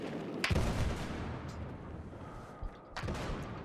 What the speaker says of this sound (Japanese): グレネードでも投げてみよう。